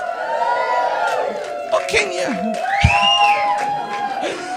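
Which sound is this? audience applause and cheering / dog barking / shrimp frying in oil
audience applause and cheering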